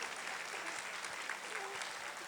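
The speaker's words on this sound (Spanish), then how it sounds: "Aplaudan al cuadro de actores." An audience applauds actors in a dense, steady wash of clapping that fills the whole stretch, even and sustained with no voices standing out.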